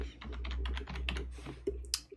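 Quiet, close typing on a computer keyboard, a scattered run of soft key clicks with a couple of sharper taps near the end.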